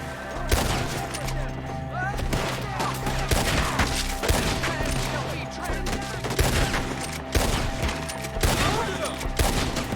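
A dense Red Dead Redemption 2 shootout keeps up loud, rapid volleys of gunfire for the whole stretch, with shouted voices partly mixed into the constant shooting.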